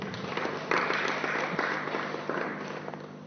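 An audience at a religious gathering claps in a sustained, fairly faint burst of applause that swells and gradually fades over a few seconds.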